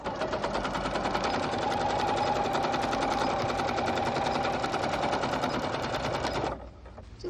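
A sewing machine runs steadily, stitching a crosshatch pattern onto denim jeans in a fast, even mechanical rattle for about six seconds before stopping.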